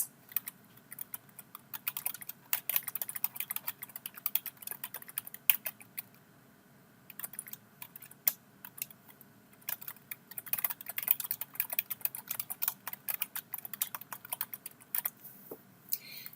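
Steady, fast typing on a computer keyboard: dense runs of light clicking keystrokes, close and fairly quiet, with a brief pause near the middle and no voice.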